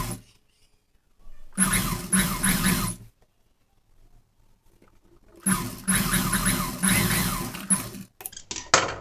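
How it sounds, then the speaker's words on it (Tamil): A sewing machine runs in two loud, close stretches of stitching on a blouse shoulder seam, a buzzing motor whir separated by near silence, then a few short starts at the end. "அந்த 1/2 இன்ச் அப்படியே நம்ம தைச்சிக்குவோம்."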